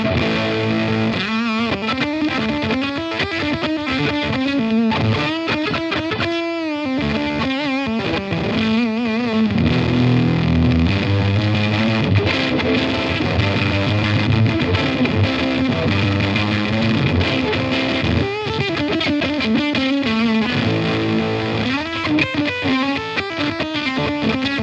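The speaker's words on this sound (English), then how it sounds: "Kind of sounds like a silicon fuzz." An electric guitar runs through a Cooltone Range Booster fuzz pedal with the gain all the way up and the tone turned all the way down, giving a loud, continuous, thickly distorted tone across varied riffs and notes.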